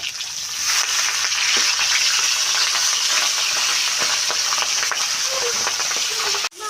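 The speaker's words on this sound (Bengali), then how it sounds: "মাছগুলো আমার এক পাশ ভাজা হয়ে গিয়েছে" Loud, continuous sizzling of pabda fish frying in hot oil, steady and close, ending with a brief clatter.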